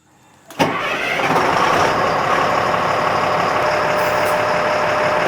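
An LMTV military truck's diesel engine cranks after a short quiet moment and catches, then runs as a loud, steady rumble for the rest of the clip.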